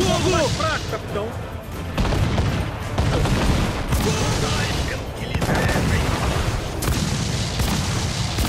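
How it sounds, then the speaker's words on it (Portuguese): Rapid, dense naval cannon fire in an Assassin's Creed IV: Black Flag ship battle: loud booms and blasts come in heavy overlapping volleys across the whole stretch, with shouted game voices mixed in. "Nossa, quantos tiros!"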